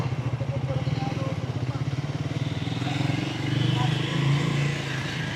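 A Triumph Speed 400 motorcycle pulls away in first gear, its single-cylinder engine thumping steadily close by and swelling in loudness toward the end, with faint rider voice noises over it.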